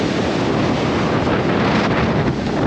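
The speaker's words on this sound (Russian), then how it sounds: "Просто штормовая погода." Stormy wind during a windstorm in Melbourne, a steady roaring gust buffeting the microphone with broadband rumble and hiss, loud and continuous throughout, with no voices.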